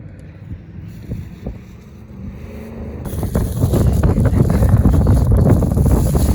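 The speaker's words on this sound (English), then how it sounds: "It's really windy for this situation." Strong wind on an Arctic-cold beach buffets the microphone with a low, rumbling roar that grows louder and steadier after the first few seconds.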